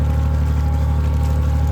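A diesel engine runs inside a home-built submarine during surface trials, with no thermostat and the water flow restricted to control its temperature. It makes a loud, steady, even drone that holds constant throughout.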